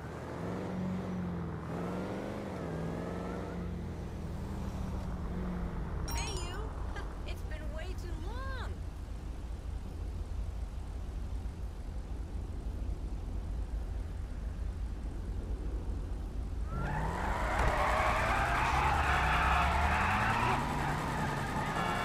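Engine of a Dodge Charger Scat Pack fitted with 5-inch exhaust tips, driven in GTA 5 roleplay, hums steadily and swells louder near the end as it accelerates, with someone talking over the first part.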